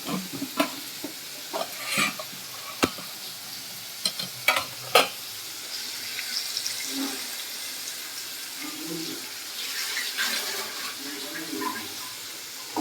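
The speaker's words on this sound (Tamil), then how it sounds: "தக்காளி போட்டு நல்லா வதக்கணுங்க." Tomatoes fry and are stirred in a pan while making rasam, with sharp spoon knocks against the pan early on, then a soft sizzle under scraping stirs and a running tap nearby.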